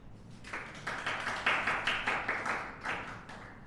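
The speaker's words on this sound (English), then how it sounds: "I ask you to clap." Indoor audience at a lecture claps hands on request, a loose series of about eight moderate, slightly uneven claps spread over a few seconds, fairly close and otherwise quiet.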